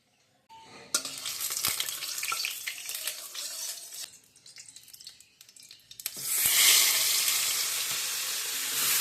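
Water poured into a hot pan while cooking prawns with black mustard, fennel, cashews and yogurt: sizzling and stirring, then a sudden loud hissing burst as the water hits the pan, close and continuous.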